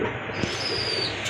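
A pigeon coos softly and continuously over a steady background hiss at a market where pigeons are sold.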